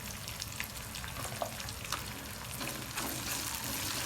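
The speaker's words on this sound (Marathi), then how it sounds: "मिरच्या चांगल्या फ्राय होऊ द्यायच्या तेलामध्ये" Cut green chillies fry in oil over onion, ginger and garlic paste for paneer bhurji, producing a dense, even, close sizzle with faint crackles and no break.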